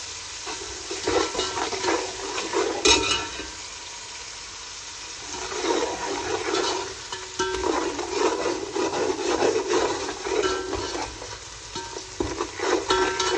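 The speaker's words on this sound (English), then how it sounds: "Stir it for 20 seconds" Tomato chutney is stirred in a pan over a low flame, a spoon scraping and rubbing through the thick mixture in uneven bursts, with soft sizzling between strokes and no talking.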